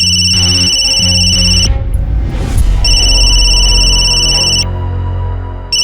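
An electronic telephone ring tone sounds loud and steady, with repeated bright tones over a droning background and a brief noisy swell in the middle.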